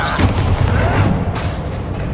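A Confringo spell explodes in Hogwarts Legacy with a booming, fiery burst, and further sharp blasts follow close behind over a dense, continuous rumble of combat effects.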